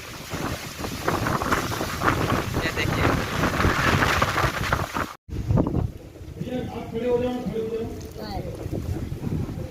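Strong windstorm roaring as broadband wind buffeting on the microphone, loud and continuous with a brief dropout near the middle; someone talks over it throughout.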